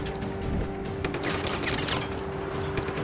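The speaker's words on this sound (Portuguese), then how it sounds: "tiros por todo o lado" Busy game combat in Just Cause 3 with dense, continuous gunfire and a steady loud mechanical drone underneath, shots overlapping in a constant chaotic barrage with occasional crashes.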